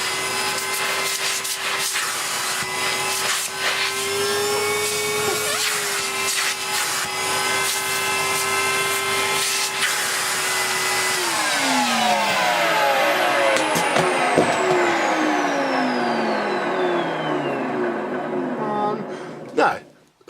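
A Henry vacuum cleaner runs steadily while cleaning a fridge filter from a Beko VRT6221P, its motor tone holding then sliding downward as it winds down near the end, close and loud under a speaking voice.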